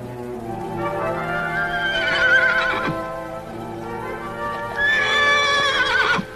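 A horse whinnies loudly twice, shrill wavering neighs, with hoofbeats clattering underneath as it runs off.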